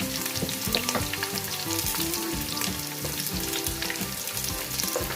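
Onions frying in a pan with spices and green chilies for chicken biryani, a close, steady hiss and crackle of hot oil that continues evenly throughout with no speech over it.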